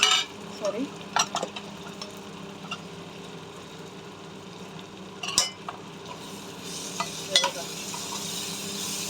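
Raw mango pieces stir-fry in oil in a pan with a steady low sizzle, broken by a few sharp spatula clinks against the metal.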